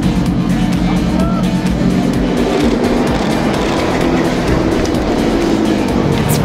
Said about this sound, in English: I like the sound of the engine very much.